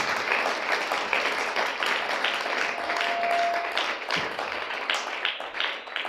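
A church congregation claps in acclaim of the Lord Jesus Christ, steady, loud applause sustained throughout, with voices murmuring faintly underneath.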